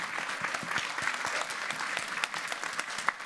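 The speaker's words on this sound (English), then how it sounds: "Can we give a big round of applause to all the candidates" Dense, steady applause from an audience at a union gubernatorial candidate forum, many hands clapping together at an even, fairly loud level with a few sharper claps near the end.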